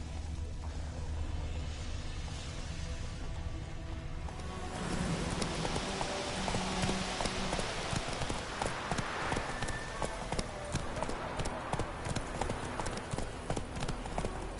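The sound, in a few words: horse Roach hooves galloping in video game Witcher 3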